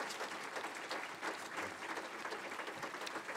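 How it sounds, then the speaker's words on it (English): Steady, moderately quiet applause from an audience in a hall for prize winners at the Simon Wiesenthal Prize awarding in Vienna, continuous dense clapping with no talk over it. "This is your applause"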